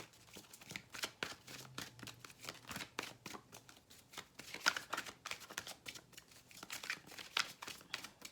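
A deck of oracle cards being shuffled by hand, soft, rapid riffling and flicking bursts in an irregular rhythm, close and fairly quiet, with no speech over it.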